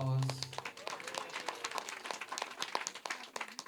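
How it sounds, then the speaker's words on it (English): Wedding guests applaud the bride, a steady patter of many hands clapping at moderate volume, with a voice briefly heard at the start. "Let's give the bride a big round of applause."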